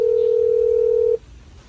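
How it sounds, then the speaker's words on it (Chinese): A telephone dial tone sounds while a call is being placed, a loud, steady single tone that holds for just over a second and then cuts off, leaving quiet background. "现在打个电话给表弟"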